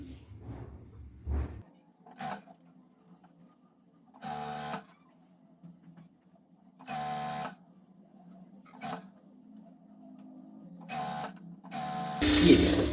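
Sewing machine stitching a semi-Patiala salwar, in short separate bursts of rapid mechanical chatter with quiet gaps between, close by, while a person talks quietly throughout.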